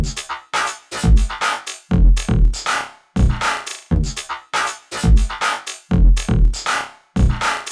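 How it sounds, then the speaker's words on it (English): Drum beat run through very short delays that are carefully automated to stretch slightly longer, the hits repeating in a steady, punchy loop of close, loud pulses with no talking. "I like to use really short delays and then automate them and just slide them a little bit longer"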